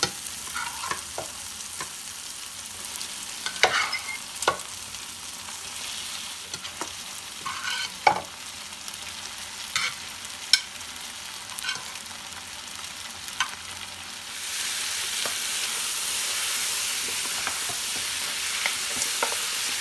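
Tender mutton pieces fry with spices in a karahi gravy, giving a continuous close sizzle broken by scraping and stirring clicks, and the hiss thickens and steadies over the last few seconds.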